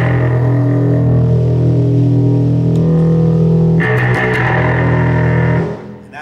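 Bass guitar played through an EarthQuaker Devices Monarch distortion pedal, with loud sustained distorted low notes that shift into a brighter, grittier chord before cutting off near the end.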